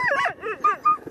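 Sled dogs in Alaska let out a quick run of close, high yips and whimpering barks, three or four short calls in about a second.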